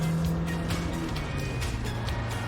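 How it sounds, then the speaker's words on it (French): Low, steady engine hum of a Lancia Delta HF Integrale rally car, a continuous purr with faint higher whine, heard from inside while driving. "j'aime bien le ronron du moteur"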